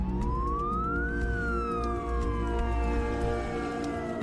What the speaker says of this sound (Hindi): एम्बुलेंस जान बचाने के लिए दौड़ रहे हैं।